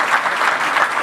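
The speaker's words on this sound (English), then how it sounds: "Let's give Jake and Marta another round of applause." Audience applause for two presenters, Jake and Marta, at an Appian Europe tech conference after a demonstration; a brief, steady burst of many hands clapping at moderate volume with no voices.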